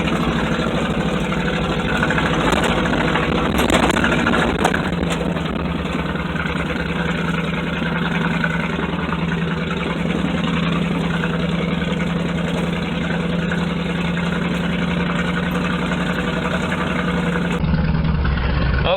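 An old $700 K5 truck engine runs while driving a cleared woods trail, holding a steady, loud mid-to-low drone for the whole stretch with only slight swells in revs and no talking.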